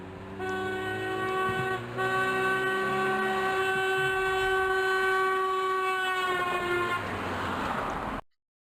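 Train horn held in one long continuous blast as the train passes, its pitch dropping partway through from the Doppler effect, loud and sustained over rumbling rail noise before cutting off abruptly.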